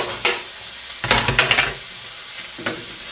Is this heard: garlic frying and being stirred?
yes